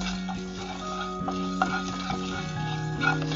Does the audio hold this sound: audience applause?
no